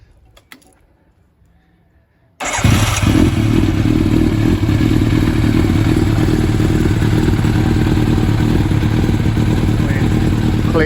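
A Yamaha FZR1000RU motorcycle fitted with a BlackWidow exhaust, with freshly cleaned carburetors and set valves, starts up after a quiet pause with a clattering crank, then settles into a loud, steady, close idle.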